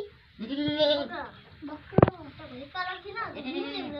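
Goats bleat repeatedly and close by: wavering, nasal calls run through the clip, with one short, sharp, loud bleat standing out near the middle.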